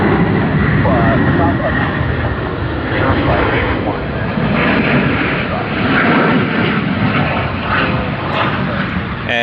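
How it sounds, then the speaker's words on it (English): Hong Kong Airlines jet airliner departing Sydney Airport during the morning peak, a loud, continuous jet engine roar that rises and swells throughout, close and dominating. "That is Hong Kong Airlines, the first one to depart in the last of the morning peak."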